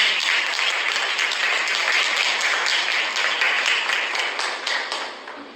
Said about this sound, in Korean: 다시 한번 박수로 맞이해주십시오.